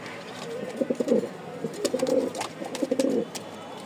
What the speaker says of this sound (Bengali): আজকে অনেক কবুতর আছে